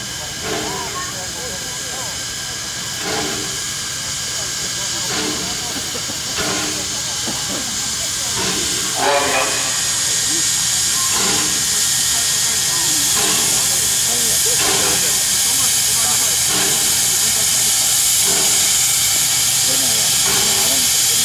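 An Ukko-Pekka steam locomotive hisses loudly and continuously, with rhythmic chuffing pulses layered over the steady steam roar; voices are faintly audible underneath.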